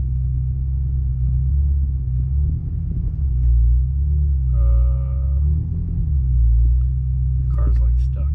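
A deep, loud engine rumble fills the cabin of a BMW M5, with low throbbing swells rising and falling in waves. Someone talks over it at times.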